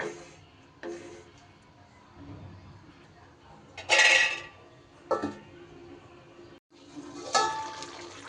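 A metal lid goes onto a pot of simmering taro curry, giving a few sharp nearby clanks and clinks spaced by quiet gaps.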